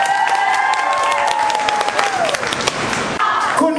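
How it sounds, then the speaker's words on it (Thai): Applause from a crowd at a Thai short-film launch event with two guests, brisk clapping mixed with a sustained music-like tone and some voices, ending in a brief shift of sound near the end. "ขอเสียงปรบมือด้วยครับ"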